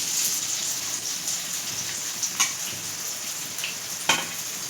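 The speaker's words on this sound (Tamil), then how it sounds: "இப்போ வெங்காயத்தை போட்டு வதக்கிறோம்" Onions sizzling and frying in hot oil in a pan while making a chicken gravy, a steady crackling hiss throughout with a few sharper pops near the end.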